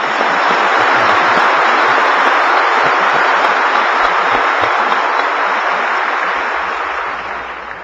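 A church congregation breaks into loud, sustained applause for God during a Korean sermon, a dense wash of clapping that holds steady for several seconds before gradually tapering off.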